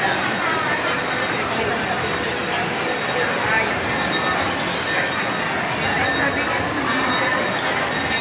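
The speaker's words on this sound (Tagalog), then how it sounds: "Ayun yung train, tumakbo na." A train rumbling steadily along with continuous wheel and rail noise, loud and close, with a faint high squeal throughout.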